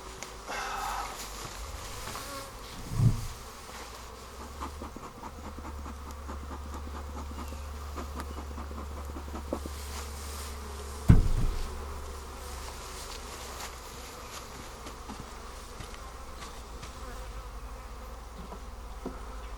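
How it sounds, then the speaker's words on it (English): Dense, steady buzzing of many honeybees all around an open hive, with occasional handling thumps of frames and faint movement close by. "Looks like must have a lot of brood over here because there's quite a bit of bees."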